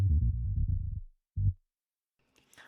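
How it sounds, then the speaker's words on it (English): Synth bass roll in G for a house track, a deep rapid run of notes tumbling downward and then one short low hit after a pause, followed by a faint brighter noise at the end. "I'm doing this kind of bass roll here."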